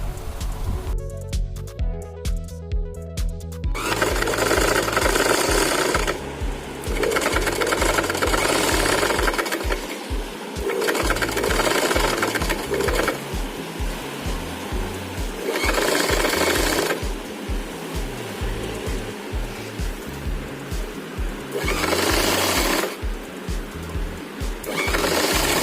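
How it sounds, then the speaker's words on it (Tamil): A sewing machine runs in long steady bursts of rapid stitching, stopping and restarting several times, while seaming around the round neckline of a lined churidar; loud and close, with no talk. "இப்போ 1/4 இன்ச் தள்ளி ஒரு இன்னொரு தையல் அப்படியே அந்த ஒரு ரவுண்ட் நெக் மாதிரியே போட்டுடலாம்"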